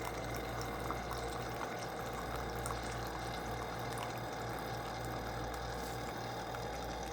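A drip coffee maker finishes its brew cycle with a steady, continuous rush of gurgling water and pump hum, close and fairly loud, with no voices.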